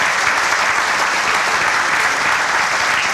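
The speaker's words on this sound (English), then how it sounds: "let's give a round of applause to every one of those donors who has helped with that" A crowd at a stadium renovation groundbreaking ceremony claps for project donors, producing dense, steady, loud applause that fills the whole moment without letting up.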